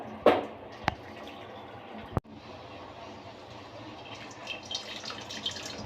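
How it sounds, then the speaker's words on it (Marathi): Cooking water is drained off boiled, softened chana dal for a spiced dal broth, a steady low trickle of liquid with a few sharp drips and small knocks, close up and unaccompanied by talk. "आपण कटाच्या आमटीसाठी पाणी काढून घेऊया डाळीतलं"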